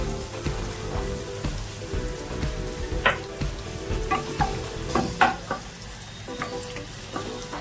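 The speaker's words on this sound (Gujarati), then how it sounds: "ડુંગળી શેકી લેવાની છે બરાબર, ફ્રાય થઈ જાય ત્યાં સુધી।" Chopped onion frying in a pan for a green corn chivda, a steady crackling sizzle with occasional sharper pops and scrapes, close and moderately loud, no talking.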